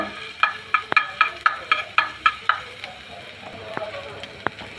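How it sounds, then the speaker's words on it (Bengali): Chopped ginger fries in hot soybean oil as a spatula scrapes the pan in about ten quick rhythmic strokes, followed by a low sizzle and a couple of sharp knocks. "তেলটা গরম হলে দিয়ে দেবো সামান্য কিছু আদা কুচি আদাটা একটু ভেজে নিব"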